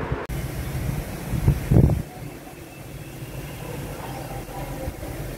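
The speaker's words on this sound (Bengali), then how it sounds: "কি হাওয়া দিচ্ছে দেখেছো, এই দেখো।" Wind blowing outdoors under a cloudy sky, a broad steady rushing buffet with a louder gust at the start, continuous and fairly close to the microphone.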